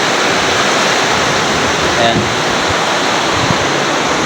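Sea waves roll in on a rising tide, a steady broadband roar and wash that fills the scene throughout, with a brief voice speaking over it.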